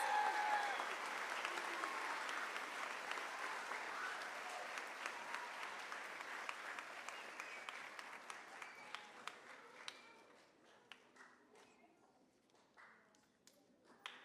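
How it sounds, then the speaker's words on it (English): An audience at a fifth-grade moving-up ceremony applauds an academic award, dense clapping that fades over several seconds into scattered individual claps, with faint murmuring. "Can we please have a big round of applause for our Presidential Award for Academics?"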